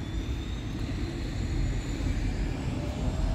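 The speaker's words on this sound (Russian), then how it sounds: "Вот вертолет взлетает." A helicopter lifting off at an Arctic-themed weekend event in St. Petersburg, heard as a steady, broad engine and rotor roar at moderate distance with faint whining tones and no speech.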